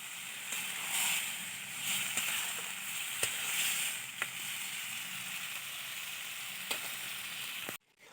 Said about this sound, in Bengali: তো মাংসটা বসিয়ে দিচ্ছি।